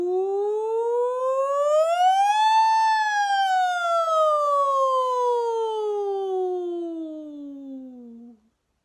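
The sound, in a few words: sung distress holler imitating a siren, repeated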